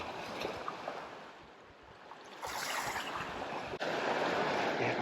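Sea waves wash and break against a stone cairn at sunset on the coast, with white spray hissing; steady surf noise swells louder midway and stays full, with a light wind, no voices.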